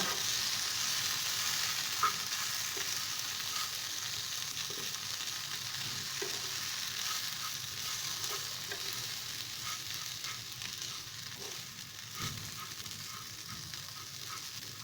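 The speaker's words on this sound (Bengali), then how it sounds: "সিমইটা এবার ভালোভাবে এর সঙ্গে মিশিয়ে নেব" Dry-roasted vermicelli being stirred into vegetables in a pan for spicy vermicelli, a low continuous sizzle with repeated light scrapes and taps of the spoon.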